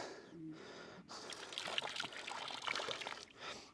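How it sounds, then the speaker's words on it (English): Apple cider vinegar is poured into a chickens' water container, making a soft, close trickling pour with audible breathing over about four seconds. "I'm just going to put a little bit of apple cider vinegar in it"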